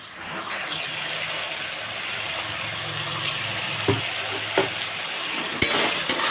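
Kochur loti (taro stolons) cooking in a pan, a steady low sizzle with occasional sharp scrapes and taps as a spoon stirs them lightly, a few knocks toward the end.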